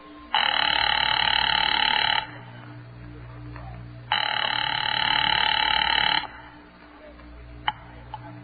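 A telephone rings in a radio drama, two long, loud bursts of ringing separated by a pause, over a low background hum.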